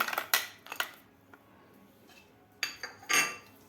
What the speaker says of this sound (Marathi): आपल्याला पाच ते सहा बर्फाचे खडे टाकायचे आहेत यामध्ये